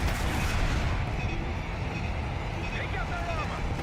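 Heavy, continuous gunfire and explosive rumble fill a Black Ops 6 campaign battle set in Iraq, loud and dense throughout, with voices partly buried in the din.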